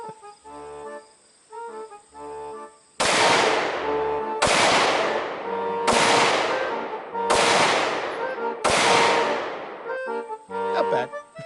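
Five loud, sharp pistol shots from a Glock 19 Gen 5 chambered in 9mm ring out at a steady, evenly spaced pace at an outdoor range, each with a short ringing decay, framed by quieter handling noises before and after.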